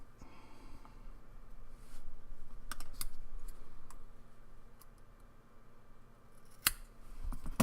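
An atomizer reservoir, a Geek Vape Medusa RDTA dripper, is trimmed at its bottom with scissors, giving faint close snips and small ticking clicks at irregular intervals, with no talking.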